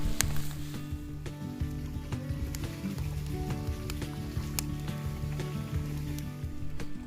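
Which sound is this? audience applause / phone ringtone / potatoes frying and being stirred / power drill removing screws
potatoes frying and being stirred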